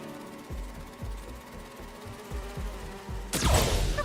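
Bees from the video game Spider-Man 2 drone in a low, steady buzz with regular pulsing beats. The sound ends in a sudden loud, noisy burst.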